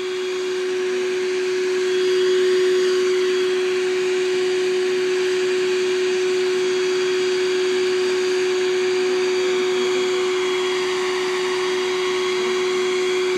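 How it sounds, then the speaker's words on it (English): A vacuum cleaner sucking up live bees during a bee removal runs steadily, with a loud, constant whining drone and an unchanging hum for the whole stretch, with no talking. "You can see how we cleaned them all up already with the vacuum in."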